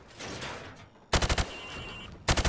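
Rifle fired from the hip in Call of Duty Modern Warfare, two quick bursts of several loud, close shots each, separated by a short pause.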